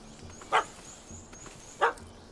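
A puppy barking in The Witcher 3: Wild Hunt, Hearts of Stone, gives two short, sharp barks about a second apart over a quiet game background.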